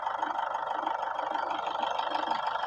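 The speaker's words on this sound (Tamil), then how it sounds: "இன்ஜின் கண்டிஷன் ஸ்டார்ட் பண்ணி காட்டியாச்சு. இன்ஜின் நாய்ஸும் செக் பண்ணிக்கோங்க." A Toyota Innova engine idles steadily, a continuous even hum with a faint rhythmic pulse, close and unchanging throughout with no voices.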